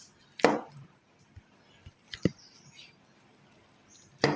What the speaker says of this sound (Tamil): இப்போ வந்து இதை கட் பண்ணணும், பீசஸ் போடணும்.